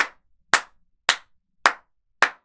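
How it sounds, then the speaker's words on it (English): Five sharp hand claps ring out alone at a steady, even pace about half a second apart, each one crisp and fairly close, with quiet between them. "Clap your hands."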